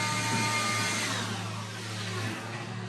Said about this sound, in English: Here comes another blower.